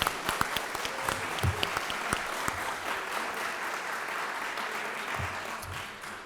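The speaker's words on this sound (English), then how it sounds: "Let's all give Keith a round of applause." Audience at an evening event on Wisconsin election processes claps in a sustained round of applause, a dense wash of many hands at moderate loudness continuing for several seconds without a break.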